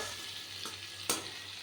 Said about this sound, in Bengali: তো ভালো করে ভেজে নিই টমেটোটা